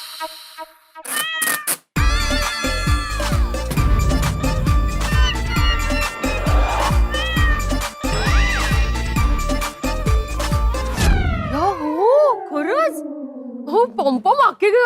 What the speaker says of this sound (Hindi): मैंने बोला था ना कि बिल्ली की आवाज आ रही है,